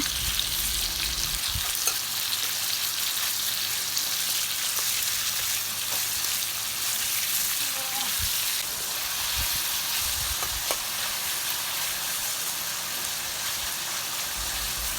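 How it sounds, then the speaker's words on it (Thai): Pieces of salted thepho fish frying in oil, a dense, continuous crackling sizzle that holds steady and close throughout, with a few faint knocks of a utensil. "ขั้นตอนนี้เดี๋ยวเราจะทอดปลาก่อนค่ะ ทอดให้เขาสุกแล้วก็ทอดให้เขาออกกรอบๆนิดนึงนะ"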